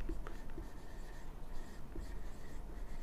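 Writing on a board during a geometry lesson, heard as faint, scratchy strokes that come and go over a steady background, with no clear speech.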